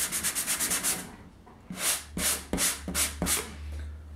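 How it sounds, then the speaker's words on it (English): Sandpaper rubs over a joint compound road on an N scale model railway layout, first in quick light strokes, then slower, scratchier back-and-forth passes, close and fairly quiet. "Some parts right here, I'll just sand down a little bit more to get a little bit more even."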